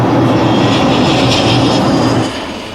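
A jet airliner in flight, circling in a holding pattern before landing in Sydney, gives a loud, steady engine roar heard from inside the cabin, dropping slightly near the end.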